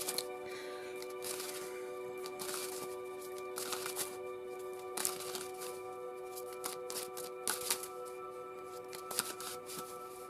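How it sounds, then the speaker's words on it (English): Tarot cards are shuffled by hand in a quiet room, giving repeated riffling and flicking bursts with soft papery snaps throughout, close and fairly faint, no talking. "let's give a last minute shuffle"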